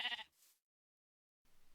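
A Minecraft sheep gives one short, close bleat, then the sound drops into silence before faint noise returns.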